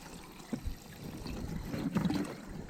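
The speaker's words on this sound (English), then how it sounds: "Inside here, it's draining, that's draining nice and quickly." Water drains quickly out of a livebait tank fitted into an Old Town PDL kayak drive well, a soft, close, steady trickle and gurgle lasting a few seconds.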